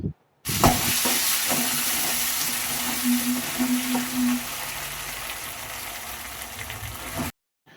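Onions and tomato pieces fry in a hot pan, giving a loud, steady sizzle with stirring scrapes and clinks that fade slightly toward the end before cutting off.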